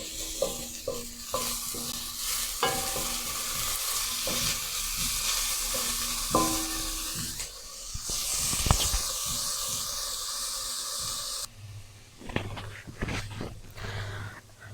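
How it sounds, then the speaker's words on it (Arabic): Onions and carrots fry in a pan with a broad, steady sizzle and hiss while a utensil stirs and scrapes through them in uneven strokes; the frying drops off briefly partway, then softer stirring resumes, close up with no speech. "وطبعا هنكمل تقليب علشان كل حاجه تاخد من طعم البصل"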